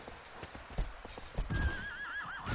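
Horse in the video game Shadow of the Colossus, rhythmic clip-clop of hooves building into a trotting run, then a long wavering whinny rising over the steps near the end.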